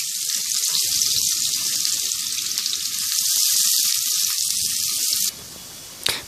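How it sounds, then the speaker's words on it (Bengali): Chopped onion hits hot oil already tempered with cardamom, giving a loud, dense, steady sizzle that drops abruptly to a softer hiss near the end, followed by a brief clatter. "পেঁয়াজটা 5 থেকে 6 মিনিট একটু ভেজে নেব।"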